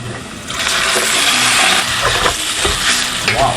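Chicken pieces dropped into a pan of browned onions and oil, a loud rushing sizzle that swells after a quiet start, with stirring scrapes near the end and no talking.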